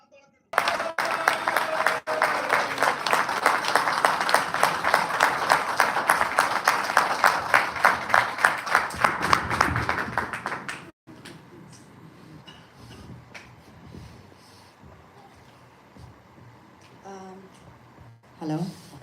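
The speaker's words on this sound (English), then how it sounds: "तालियां पहले बजनी चाहिए, नाम बाद में दूंगा." Loud, sustained applause and clapping from an audience at a Dutch Pakistani Christian community gathering, dense and steady for about ten seconds, then cut off and followed by quieter room noise with light handling sounds.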